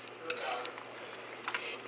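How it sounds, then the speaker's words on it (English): A spoon stirs a very full crock pot of a bacon dish, giving soft, wet scraping and sizzling textures with a couple of light clinks, fairly quiet and close. "So let's stir this up and see how we're looking."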